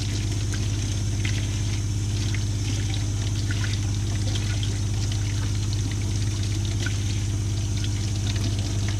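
Hot water from a newly installed on-demand water heater at a camp runs steadily, a continuous hissing rush of flowing water with a constant low hum beneath it, unbroken for the whole stretch.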